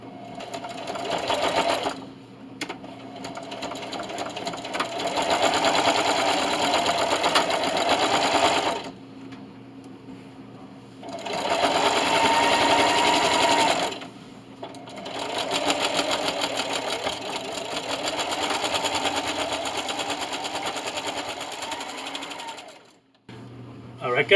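A sewing machine stitches a thick recycled denim seam for a draft stopper, running in long steady bursts with short pauses between passes as someone talks over it.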